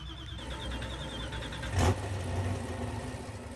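A car engine turns over and catches, then runs with a rough, rumbling idle, a brief louder burst in the middle, fairly quiet overall.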